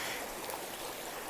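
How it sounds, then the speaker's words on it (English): Creek water flowing in a steady, broadband rush, close by and continuous, with no voices over it. "there's a lot of positive ions from the moving water"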